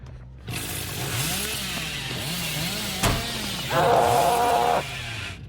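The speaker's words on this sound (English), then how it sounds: "So now I try to use the chainsaw for mobility again." In Dead by Daylight, the Hillbilly's chainsaw revs with a wavering, rising and falling engine snarl as he dashes across the map, marked by a sharp crash mid-way and a brighter, louder whine near the end.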